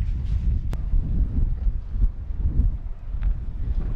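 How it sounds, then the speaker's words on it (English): Gusty wind on a pig farm buffeting the microphone with a low, uneven rumble and a few brief knocks, steady throughout with no one speaking. "It's so windy out here."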